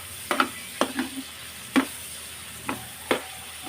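Onion and chili sautéing in a pan for a pork dish with shrimp paste, a soft steady sizzle broken by several sharp stirring scrapes at an uneven rhythm, close up.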